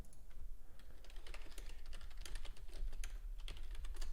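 Rapid clicking of keys on a computer keyboard, steady and fairly quiet, in irregular bursts with no voices.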